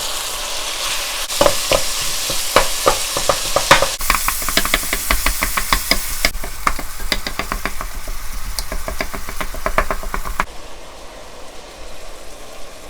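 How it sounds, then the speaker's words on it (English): Ground beef for a beef noodle stir fry browning in a hot pan, with a continuous loud sizzle and rapid rhythmic scraping and tapping of a spatula breaking up the meat, easing near the end. "start breaking down the meat. At this point, let it brown a little bit."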